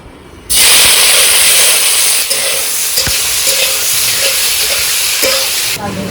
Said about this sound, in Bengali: তো দেখো 5 ফোড়ন আর শুকনো লঙ্কা দিয়ে দিই তেলের মধ্যে, এবার লিচুগুলো দিয়ে দেবো।